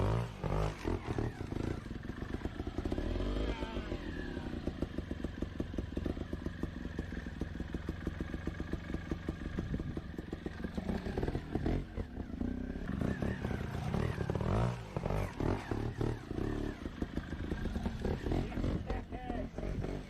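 A motorcycle riding a line on a left turn, its engine droning and roaring continuously throughout as playback from ridden footage, with commentary-style voices faintly present underneath.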